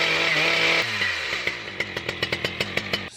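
A Husqvarna 3120xp or Stihl MS 881 chainsaw engine runs loud and steady for under a second, then is switched off, winding down with slowing, uneven firing pulses as it coasts to a stop.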